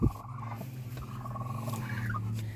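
A tiny chick squeals near a broody hen in a chicken coop, with a low, steady clucking and gobbling murmur running throughout and a sharp louder cry at the very start.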